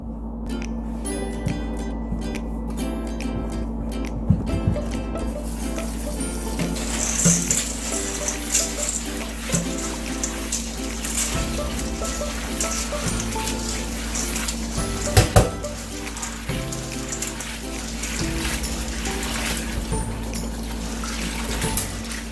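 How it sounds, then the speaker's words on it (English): Beans being washed in water for a Nigerian beans and roasted plantain dish, a steady close sloshing and splashing that runs continuously with a few louder clatters. "So after washing those beans, we are going to add some water"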